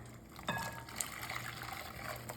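Hot water pours quietly into a bowl of lime Jello powder, a faint steady trickle with a soft splash at the start, no speech.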